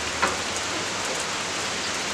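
Steady rain falling outdoors, a continuous even hiss of drops on surfaces with no talk, one brief patter standing out near the start.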